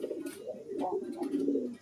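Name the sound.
Giant Hungarian house pigeon cooing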